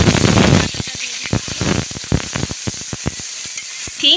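Onion goes into hot oil in a kadai for a river fish curry, starting with a loud hissing burst that settles into a rapid series of crackling spits and pops, close by.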